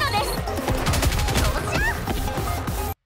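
Snow White's burst shot in the NIKKE video game firing as a dense, continuous volley of loud gunfire and crashing impacts, layered with game effects and background music, cutting off abruptly at the end.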